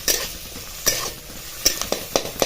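Chopped onion sautés in a pan for a Pandharpur-style bazaar amti, with a soft, steady sizzle broken by several sharp scrapes and clacks as a utensil stirs it, close and clear with no voices.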